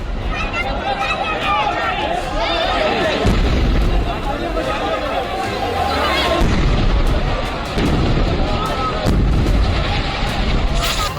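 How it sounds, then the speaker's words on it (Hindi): A truck blast on a city street sets off repeated heavy booms amid fire. Several deep thuds land at irregular intervals over a continuous roar, with crowd noise and voices throughout. "सड़क पर आग का गोला और बीच बीच में दिल दहला देने वाले धमाके।"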